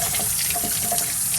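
Steady running water from a sink tap, a continuous broadband hiss splashing into the basin, close and fairly loud with no voices.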